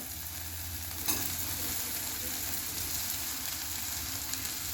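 Wild fig (umbar) vegetable is stirred and sautéed with red chilli powder in a pan. A soft, steady sizzle with one brief scrape early on plays at low volume.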